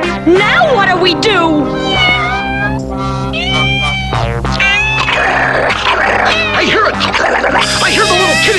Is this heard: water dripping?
no